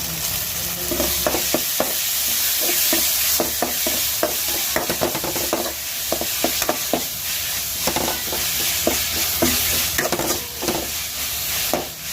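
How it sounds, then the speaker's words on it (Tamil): Ginger garlic paste and tomato sauté in a pan, with a continuous sizzle and frequent scraping stirs of a spoon against the pan in irregular strokes. "இஞ்சி பூண்டு பேஸ்ட் எல்லாம் நல்லா வதங்கிடுச்சு"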